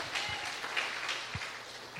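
Congregation applauding inside a church during a Wednesday sermon, a steady wash of clapping from many hands with a few louder bursts, moderately distant and continuous throughout.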